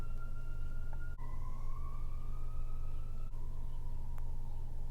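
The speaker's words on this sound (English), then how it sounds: "I don't know if you can hear that siren." A steady emergency vehicle siren wails continuously as it passes, its pitch gliding up and shifting between tones, over a loud low rumble of traffic or engine noise.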